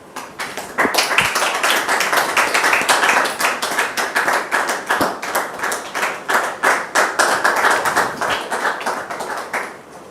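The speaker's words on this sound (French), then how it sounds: "Recevons maintenant Dame Doriane sous vos applaudissements" An audience gives sustained, dense applause to welcome a guest onto the stage, with steady clapping that rises quickly and holds loud for about ten seconds before thinning slightly at the end.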